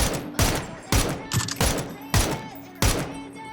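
Gunfire in the battle royale game PUBG: about six sharp, loud shots ring out at uneven intervals, each trailing off into a short echo.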